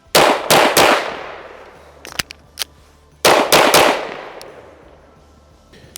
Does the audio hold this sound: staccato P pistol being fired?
yes